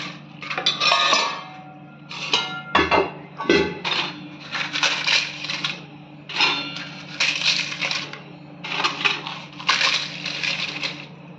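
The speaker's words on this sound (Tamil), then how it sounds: "இதில் அப்பளத்தை உடைச்சி போடுங்க." Dry appalam (papadum) being snapped and crumbled by hand into a cooking pot for appalam kootu, with a run of crisp crackling bursts and brittle snaps repeating close by for about eleven seconds.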